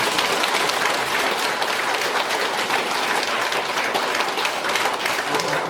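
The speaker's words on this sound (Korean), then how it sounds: "박수." A congregation at a Catholic prayer gathering bursts into dense, sustained applause, many hands clapping evenly throughout with no voices.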